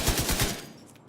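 An LMG in The Division 2 fires a rapid burst of about six loud, closely spaced shots, then cuts off into a brief fading tail with no talking.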